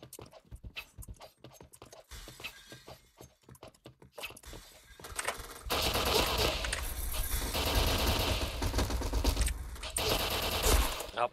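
Gunfire from the APC weapon in the Point Blank video game cracks in rapid, sharp bursts, then builds into loud, sustained automatic fire with heavy impacts for the rest of the stretch.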